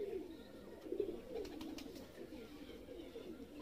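Pigeons in a loft at R.S. Pura coo softly in repeated low, rolling calls that rise and fall against quiet background noise.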